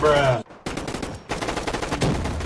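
Rapid bursts of automatic gunfire in the video game Roblox Gunfight Arena crackle in quick succession, loud and close, broken by a brief pause before firing resumes.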